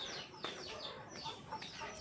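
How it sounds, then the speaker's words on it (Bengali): Farmyard chickens cluck in a series of short, bright calls, several overlapping and fairly faint over a steady outdoor background. "এই যেগুলো আমাদেরই মুরগি।"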